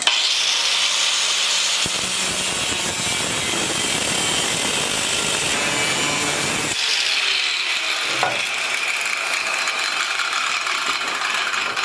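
A saw cutting through the metal mainframe of a log arch log hauler, a steady loud grinding rasp that runs unbroken, with a sharp change in tone partway through as the cut continues.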